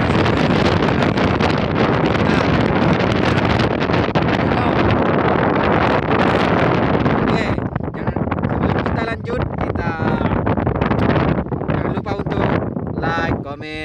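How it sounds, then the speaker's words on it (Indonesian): Strong wind beside a river buffets the microphone with a loud, constant roar and rumble through the whole stretch, with a voice talking faintly underneath. "Mungkin kalian akan kesulitan mendengar suara saya ya karena cuacanya lagi angin kencang"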